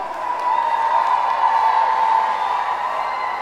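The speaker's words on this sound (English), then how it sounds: "give her a big cheer now" Crowd cheering and whooping at a roller derby bout, a steady wash of voices that swells and holds for a few seconds before easing off slightly.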